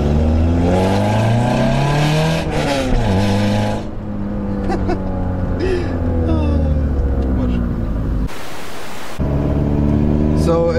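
A Peugeot 206 with a new Magnaflow exhaust drones loudly and continuously with its engine under load. Pitch rises and falls as it revs, with a short burst of broadband noise near the end and people talking over it.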